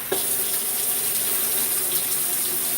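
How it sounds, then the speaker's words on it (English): Kitchen tap water runs steadily into a sink while asparagus is washed, a loud, continuous splashing gush that starts abruptly and carries on alone without talk. "Wash the asparagus."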